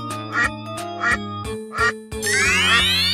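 Four loud, close duck quacks in a steady rhythm, each short and nasal over a continuous tonal background, followed by a rising sweeping tone, with no talking.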